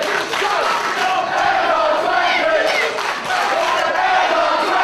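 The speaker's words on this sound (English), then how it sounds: "This crowd chanting for M-Dogg 20 and Red Vinny not too happy about it." Wrestling crowd at an Irish Whip Wrestling show chanting for M-Dogg 20 ahead of his match with Red Vinny, a loud, steady roar of massed voices with rhythmic rising and falling chant swells filling the whole stretch.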